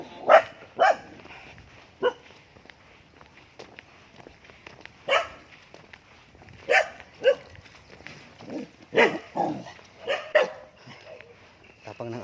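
A dog barks in scattered bursts of one or two sharp woofs outdoors in the Philippine countryside, fairly near, with quiet gaps between and faint background sound.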